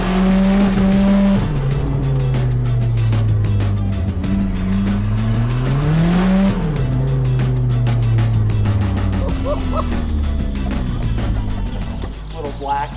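A car fitted with a cheap Amazon turbo does a rolling burnout, its engine droning loud and wavering in pitch while the tires squeal and scrub continuously, close by, with people talking over it.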